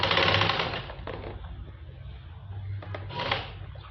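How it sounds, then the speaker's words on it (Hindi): Sewing machine running fast while stitching the bottom seam of a simple palazzo, a dense rapid buzzing chatter, loudest at the start, easing, then picking up again near the end, close by with no talk. "अब हम इसके नीचे की सिलाई लगाएंगे"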